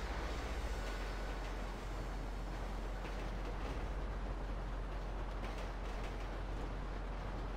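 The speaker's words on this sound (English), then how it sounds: "Dude, that train's taking you all the way up there." A train rolls past in Grand Theft Auto V Online, a steady loud rumble of wheels and carriages holding constant throughout with no pauses.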